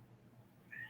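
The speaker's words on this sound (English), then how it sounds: "sorry about my cat, first of all." A pet cat gives a single short meow near the end, faint and somewhat distant, in an otherwise quiet indoor room.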